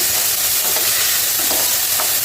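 Onion, carrot and beans sauté in oil in a hot pan, a loud, continuous sizzle with occasional stirring scrapes and no voices.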